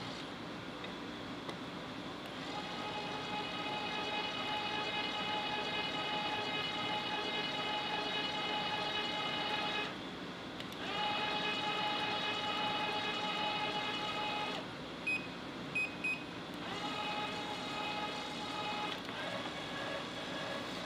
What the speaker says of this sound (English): let's tap this hole